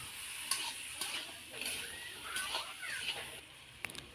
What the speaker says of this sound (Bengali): এখন আমি ঘেটে নিচ্ছি।